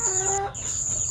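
A brief, close cluck comes from a chicken sick with avian malaria, one short call with a thin, high tone running through it.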